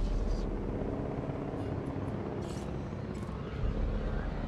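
A helicopter in the Jurassic World game gives a faint, steady rotor and engine drone over a low rumbling background, with a few soft higher blips on top.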